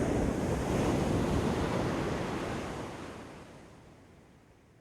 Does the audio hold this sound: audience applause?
no